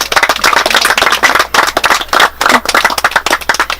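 Audience applause for community garden participants, dense continuous clapping from many hands filling the whole stretch, loud and close, with no talk over it.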